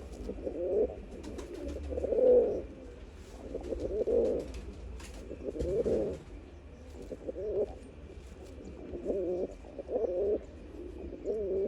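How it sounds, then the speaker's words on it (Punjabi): A pigeon coos in repeated soft, low, throaty phrases spaced a second or two apart, fairly close, against quiet background noise with no talking. "ਤੁਸੀਂ ਕਬੂਤਰ ਦੀ ਪਹਿਲਾ ਆਵਾਜ਼ ਸੁਣ ਲਓ"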